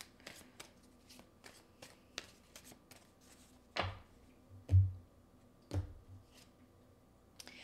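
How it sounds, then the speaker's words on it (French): Oracle cards are shuffled by hand, with a quick run of soft riffling flicks followed by a few louder slaps and taps of the deck, close and quiet, with no voice. "Puis je vais sortir une de mes cartes"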